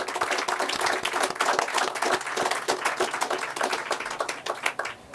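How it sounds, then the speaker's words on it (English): Audience applause at a groundbreaking ceremony for the Pearl of the Caribbean project, dense and steady clapping from a sizable crowd that fills the whole stretch at an even level without letting up. "I think you deserve a big round of applause for that particular thing"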